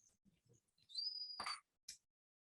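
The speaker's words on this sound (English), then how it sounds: "that's the sound of the baiji, or the Yangtze River dolphin." A baiji (Yangtze River dolphin) gives a faint, high whistle-like call that rises and holds briefly, framed by soft clicks and a couple of sharp pops in otherwise quiet surroundings.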